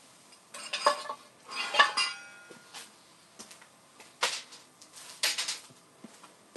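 A metal frying pan shifted on a wood-burning cook stove while cooking onions, giving a few scattered clinks, scrapes and knocks of metal on metal, close and fairly quiet, with no one talking.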